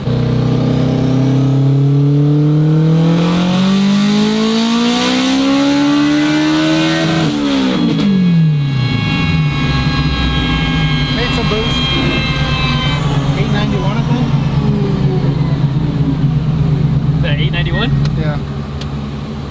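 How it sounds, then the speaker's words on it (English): A turbocharged 900-horsepower all-wheel-drive Acura RSX with a K24 engine pulls hard, its loud engine climbing steadily in pitch to near 10,000 rpm before a shift, then pulling again with a high turbo whine. "It spun the tires a little bit when the turbo first came on."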